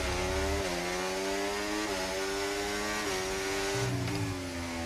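Formula 1 race car engines in the F1 2024 racing video game, a continuous loud high-revving whine that steps through gear changes with no talk.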